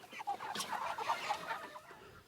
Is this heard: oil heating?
no